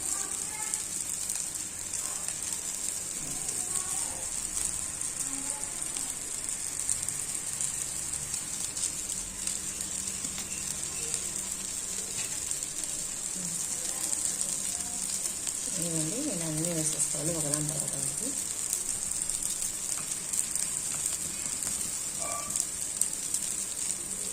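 Chopped onions fry in oil in a pan with a constant bright sizzle, broken by occasional stirring and clinks, and a short burst of other noise partway through.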